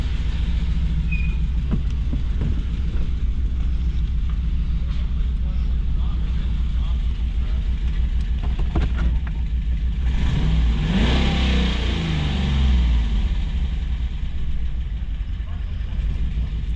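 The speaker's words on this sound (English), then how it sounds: "Dodge is fixed. Starts good. No engine light. Idling smooth." A 2014 Dodge Ram 1500 pickup engine with a leaking exhaust runs steadily at idle with a low, constant rumble, rising briefly in intensity partway through before settling back.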